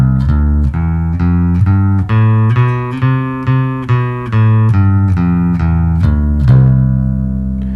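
An electric bass plays a one-octave major scale with no sharps or flats, rising note by note and then descending, each note plucked distinctly and sustained, loud and alone.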